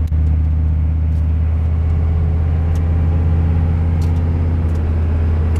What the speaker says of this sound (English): This is an easy to drive truck.